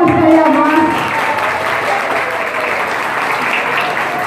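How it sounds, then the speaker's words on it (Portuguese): Audience applause fills a school event at E.M. José Manna Junior, a dense, steady wash of clapping from a sizeable crowd with a few voices rising over it at the start, holding evenly throughout. "Cadê as palmas para a"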